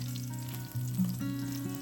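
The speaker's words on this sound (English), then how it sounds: "Heat up some oil, toss in the pork belly, and stir fry until it turns golden like this." Pork belly stir-fries in hot oil, a close, continuous sizzle with light crackling over a short stretch, under background music.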